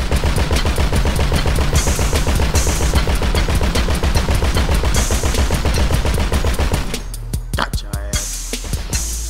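Sustained rapid automatic gunfire during a GTA 5 deathmatch, a loud, dense, unbroken rattle of shots for most of the stretch before it thins into a few scattered bangs near the end.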